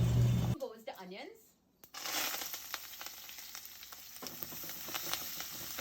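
Onions hitting hot oil in a pot with toasted methi, cumin and mustard seeds, a broad sizzle that starts after a brief voiced moment and a short gap, then crackles steadily with light scraping.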